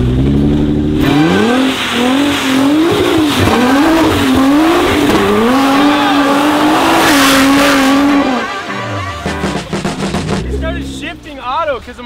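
A shifter kart engine revs and pitches up and down as the kart spins donuts on fresh snow, loud and close for about eight seconds before dropping to a quieter, wavering idle, with a voice briefly audible near the end.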